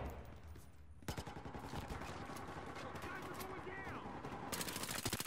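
Rapid automatic M416 rifle fire in a video game, long sustained bursts of sharp close shots after a brief quieter start.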